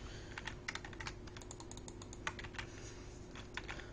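Rapid keystrokes on a computer keyboard while entering a chat command in a Minecraft PvP server, a steady run of light clicks with a few sharper taps, fairly close and heard alone over a low background hum.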